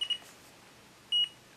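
Short electronic beeps from a fishing bite alarm: two quick chirps at the start, then a longer single tone a second later, clear against a quiet background.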